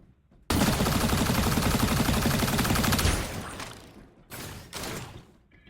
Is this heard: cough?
no